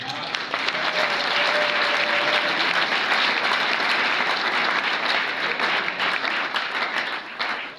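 Large crowd at a political rally applauding loudly and steadily, dense continuous clapping throughout with voices mixed in.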